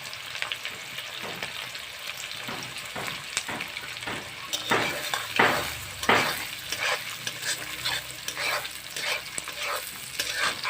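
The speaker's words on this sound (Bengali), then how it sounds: "পেঁয়াজটা ভাজা হোক, তারপর টমেটো দিয়ে দেবেন" Sliced onion and split green chillies fry in fish-seasoned oil. A soft, continuous sizzle carries repeated close stirring and scraping strokes that grow busier midway, with no voices.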